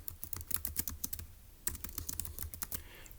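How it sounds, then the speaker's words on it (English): Steady typing on a computer keyboard, quick close key clicks in uneven bursts with a brief pause midway, quiet and with no talk. "So let's go ahead and type that up in our notes."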